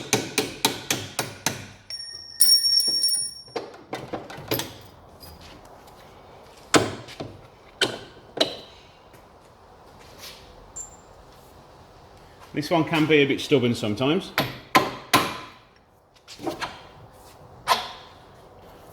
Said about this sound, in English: you'll just want a hammer and a punch just to knock these bolts out